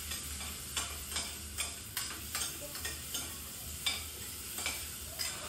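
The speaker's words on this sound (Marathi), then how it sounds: "थोडा कांदा टाकल्यानंतर तो कांदा आपल्याला लालसर करून घ्यायचा आहे." Onions fry over full gas heat until reddish, a soft steady sizzle broken by regular spoon scrapes and clinks of stirring against the pan, heard close and alone.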